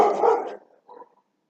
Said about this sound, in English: Excuse my puppy dog